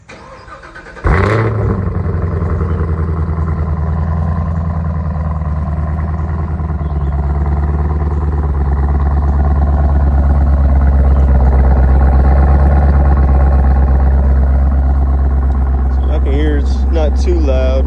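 A stock-exhausted Chevrolet Camaro ZL1 fires up from cold with a sharp starter crank and loud bark, then settles into a steady, deep, rumbling idle that fills the rest of the clip up close.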